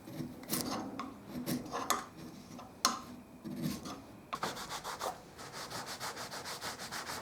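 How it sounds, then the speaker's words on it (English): Excess glue and wood are scraped off the parts of a rubber band gun, with close, dry rasping strokes. Sparse strokes come first, then a quicker, even run of repeated scrapes. "Scrape off excess glue and wood."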